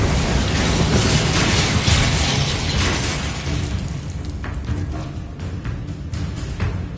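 Loud, sustained magical blast from an Expulso explosion spell in Hogwarts Legacy, a dense roaring burst that rumbles on for several seconds before fading into crackling debris.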